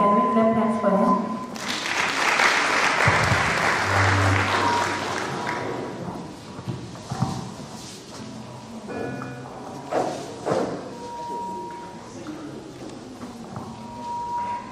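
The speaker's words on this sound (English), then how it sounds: "Can we clap hands for him?" Audience applause at a municipal government ceremony, a burst of clapping in the middle of the clip that fades under a speaker addressing the room.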